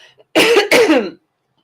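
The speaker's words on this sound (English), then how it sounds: "Excuse me, I'm going to cough again." Two sharp, close coughs in quick succession, loud and alone, followed by silence.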